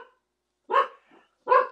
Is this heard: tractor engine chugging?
no